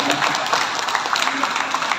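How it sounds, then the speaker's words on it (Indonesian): An audience claps for Zahra, a young preaching-competition finalist, in a short burst of applause mixed with a voice talking over it. "Tepuk tangan untuk Zahra."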